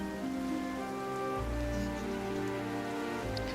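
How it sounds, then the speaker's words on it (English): Rain falls steadily in the Fontaine story of a video game, a continuous soft patter over sustained musical tones. "Why is it raining all of a sudden?"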